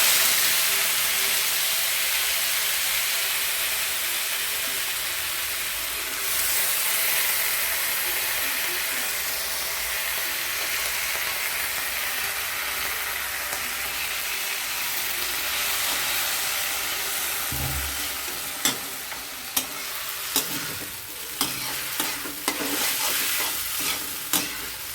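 Soaked, drained vermicelli added to a pan of hot oil with crackled mustard seeds and curry leaves, a loud steady sizzle and frying hiss, ending in a few sharp scraping stirs.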